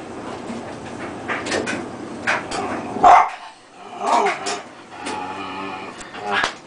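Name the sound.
dog barking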